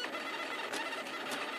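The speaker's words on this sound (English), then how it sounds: "If you know 3D printing, you should be pretty familiar with a sound like this." A 3D printer's stepper motors running under standard current control, a faint steady whine and buzz with a few brief pitch shifts as the motors move, close and alone.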